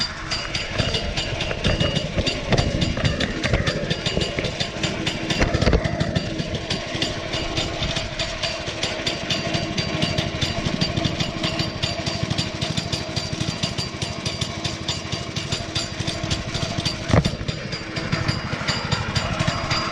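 A sod cutter's small engine running steadily and loudly up close, a continuous rough mechanical drone with a faint rattle and no talking.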